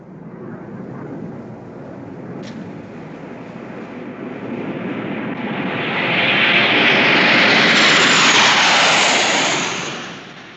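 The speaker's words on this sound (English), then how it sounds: "Sabre jets of the Royal Canadian Air Force." Sabre jet fighters of the Royal Canadian Air Force, stationed in West Germany, roar in an archival 1950s recording, a broad jet rush that swells to a loud peak and then begins to fade.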